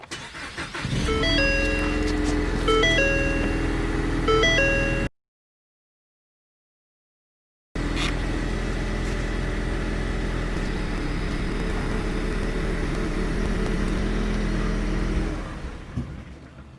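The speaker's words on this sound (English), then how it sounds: "Run the car until it runs out of gas." The engine of a 2018 Ford Mustang idles steadily with a constant hum and whine, then falls quiet before running on until it sputters and dies as the fuel runs out.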